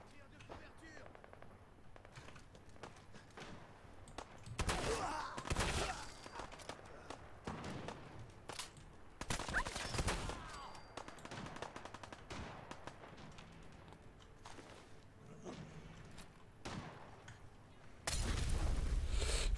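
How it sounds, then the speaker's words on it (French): Bursts of automatic gunfire and scattered shots trade back and forth in a firefight in Fallout 4, coming in loud clusters separated by quieter stretches, with a voice talking over parts of it. "Oh, ça se tire dessus."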